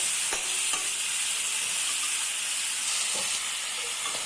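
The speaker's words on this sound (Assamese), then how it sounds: "আলু কিপিচটো মই ভালকৈ ভাজি ল'ম বিলাহীৰ লগতে।" Potato pieces and tomatoes fry together in a pan, making a continuous close sizzle broken by a few sharp stirring taps.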